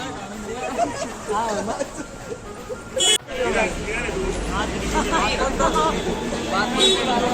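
Dense crowd babble from a packed Lalbaugcha Raja darshan queue, a continuous hubbub of many voices with a brief sharp knock midway and low traffic rumble underneath.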